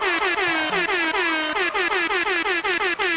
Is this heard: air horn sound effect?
yes